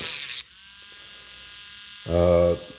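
Arrowmax rotary engraver running fast, a faint steady motor whine throughout that swells into a loud, close, buzzing half-second burst near the end, after a brief hiss at the start.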